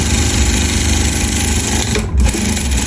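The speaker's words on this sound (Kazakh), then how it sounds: "Оң жағынан, тура сызықтың үстінен тігесіз." A sewing machine stitches a mermaid skirt seam in a steady, loud, continuous mechanical whir with a brief pause near the end, no talking over it.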